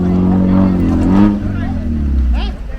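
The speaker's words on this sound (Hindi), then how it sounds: "नीचे फ्रेश मिट्टी डली हुई है और ऊपर से गाड़ी बहुत ज़्यादा स्किड कर रही" A car skids and its engine labours on freshly laid mud on a mountain road near Hampta Pass, loud and continuous beneath a rumbling engine and faint background voices.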